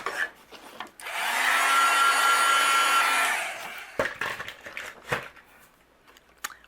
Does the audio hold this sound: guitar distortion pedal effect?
no